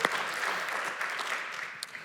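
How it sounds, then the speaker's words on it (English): Audience applause for a pair of performers at a live variety show, steady dense clapping holding at an even level for about two seconds with no voices over it. "let's have another round of applause for Zilch and Bathos."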